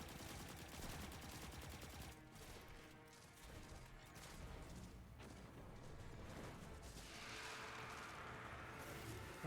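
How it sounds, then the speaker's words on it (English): Destiny 2 game explosions and weapon fire, dense rumbling booms and rapid bursts layered over a busy battle soundscape, fairly quiet overall with no clear talking. "Oh, there's the explosion again."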